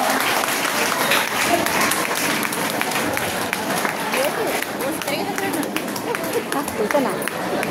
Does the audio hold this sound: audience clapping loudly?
yes